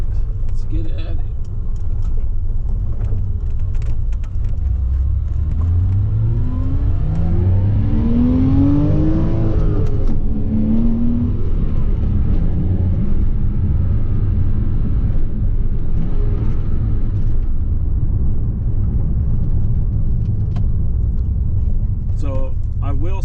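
Porsche Cayman S 987.1 with factory exhaust driving on a road, heard from inside the car: a constant deep engine and exhaust rumble with a rising revving sweep partway through, then steady cruising drone.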